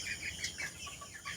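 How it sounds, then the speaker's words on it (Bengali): Desi chickens in a farm coop give soft, repeated clucks in a short burst, faint and close with no talking. "দেশি মুরগিগুলো দেখতে পাচ্ছেন"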